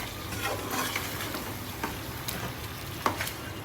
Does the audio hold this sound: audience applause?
no